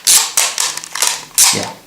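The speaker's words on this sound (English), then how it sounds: "you need to crank until you hear that click, and then the camera is ready to shoot." Film advance crank on a 35mm Instamatic camera being wound, giving a quick run of sharp mechanical clicks and ratcheting taps, close and fairly loud, with no voice.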